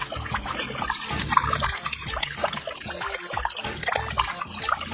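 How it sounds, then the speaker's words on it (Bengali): A tap left on runs continuously with a loud, rushing splash of water that persists throughout, close and without pause. "এই তো জলের সাউন্ড আসছে"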